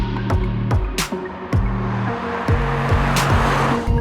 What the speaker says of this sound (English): That thrummy engine note is rather, well, insistent